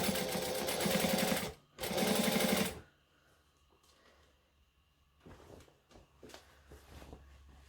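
Sewing machine stitching down the seam allowance inside a hoodie's hood, running in two fast, loud bursts, a brief pause between them, before falling quiet with only soft handling noises after.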